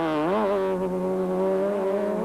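Four-wheel drive rally car at Tour Natal 2006 driving a stage, engine note climbing and then holding a loud, steady high-revving drone close by.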